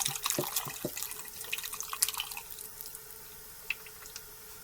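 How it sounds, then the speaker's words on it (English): Low-sodium chicken stock is poured into a pot of minestrone soup, producing a faint splashing and dripping pour that fades after a few seconds, with no talking. "I'm going to add the chicken stock."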